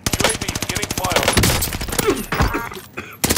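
Rapid automatic gunfire from the video game Call of Duty Warzone, a dense run of rhythmic shots at close range, broken by brief pauses and a final burst, with voices underneath.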